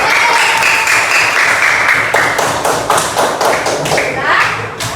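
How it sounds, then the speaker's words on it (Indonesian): A classroom of children clapping together at a teacher's prompt, a steady patter of many small hands that comes in uneven bursts and stays fairly loud, with some faint voices mixed in. "Oke, tepuk tangan semuanya."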